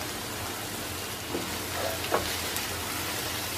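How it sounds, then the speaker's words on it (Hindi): Paneer cubes with kitchen king masala, Kashmiri red chilli powder, garam masala and salt sauté in a pan over a medium flame, giving a steady soft sizzle with a few light stirring clinks and no talk. "1 मिनट के लिए इसे सौते कर लेंगे। मीडियम फ्लेम पे 1 मिनट सौते कर लिया है।"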